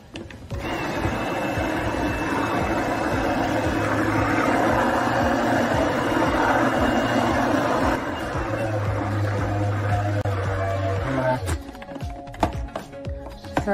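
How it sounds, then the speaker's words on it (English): A blender whirs steadily for about eleven seconds while mixing hot process soap, with rough scraping of stirring mixed in, then cuts off into a few clatters and knocks. "Sorry about the noise of the blender and the stirring"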